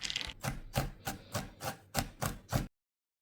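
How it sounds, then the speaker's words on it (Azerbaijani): Roasted peanuts chopped coarsely with a knife on a board for a cake topping, about ten steady, evenly spaced chops, close and distinct, followed by silence. "Fıstığı çox xırda doğramırıq. Biraz iri doğramaq lazımdır ki,"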